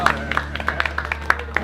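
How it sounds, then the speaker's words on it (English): A group of military veteran art workshop participants claps in a short burst of applause, steady overlapping claps at close range with no one speaking. "Give yourselves a round of applause."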